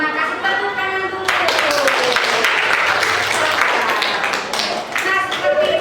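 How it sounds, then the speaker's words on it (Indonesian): A classroom of students breaks into applause after a teacher's prompt, dense clapping rising sharply and holding steady, with the teacher's voice heard before and after. "tepuk tangan dulu"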